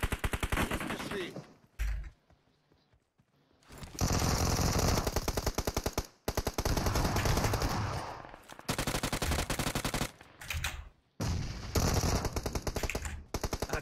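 Rapid bursts of shotgun and automatic gunfire crackle in a PUBG Mobile battle, loud and close, in repeated volleys broken by short silent gaps.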